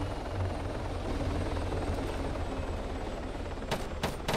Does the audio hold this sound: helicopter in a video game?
yes